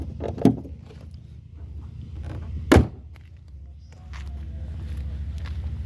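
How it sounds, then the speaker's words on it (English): Two solid thuds of a 2008 Volkswagen Golf Plus 2.0 TDI door shutting, the second louder, over a low diesel idling hum that grows slightly louder toward the end. "Close the door"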